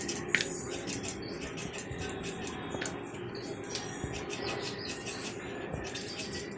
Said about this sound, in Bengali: এবার আমি এটিকে ঝিরি ঝিরি করে কেটে নেব, ছোটো ছোটো পিস করে কেটে নেব